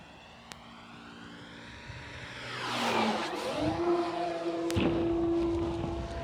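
A Hangar 9 P-47 Thunderbolt RC airplane, 58-inch, whines past overhead, its motor pitch sweeping down then climbing and holding steady as it performs a stall turn, fairly distant and alone.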